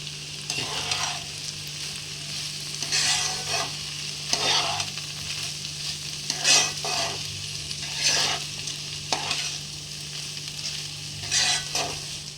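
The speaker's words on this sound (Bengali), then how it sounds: "এটাকে আমি ভালোভাবে কষবো মিক্স করতে হবে" Dalia fried with green chillies in a pan, a steady low sizzle broken by repeated scraping stir strokes every second or two, close and moderately loud with no voices.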